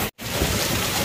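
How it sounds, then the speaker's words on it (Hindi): Heavy rain pours in a steady, dense hiss close by, broken only by a brief dropout near the start. "हाँ जी बारिश तेज है"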